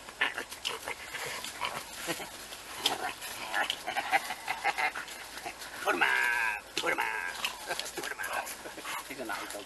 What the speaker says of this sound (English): He's a nice dog, isn't he?